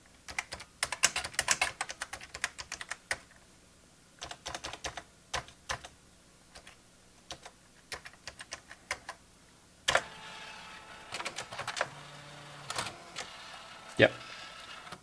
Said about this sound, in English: Now I should be able to type.